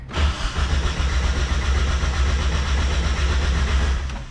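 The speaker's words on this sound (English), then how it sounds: "Fuel pump's loud, that's a good sign." A car engine cranks and rumbles loud and close, a dense low churning that holds steady for several seconds without a clear catch.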